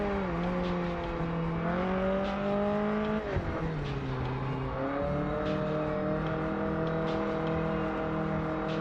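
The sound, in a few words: Italian car engine revving in TDU Solar Crown video game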